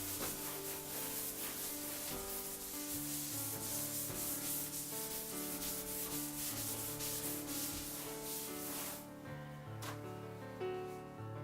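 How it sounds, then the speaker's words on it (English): Dry wiping a freshly sanded drywall patch over a large hole in a wall: a continuous, steady rubbing and scuffing that runs unbroken for the whole stretch, close and even, with a tonal hum beneath it. "I'll dry wipe it."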